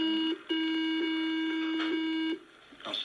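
Breathalyzer emitting a loud continuous electronic beep while someone blows into it, broken by a short gap near the start, then cutting off as the breath stops, with faint voices around it.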